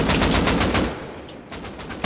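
Rapid automatic MP5 fire from the Rust console game rattles in a fast, steady burst, loud and close, then breaks off before a final shot.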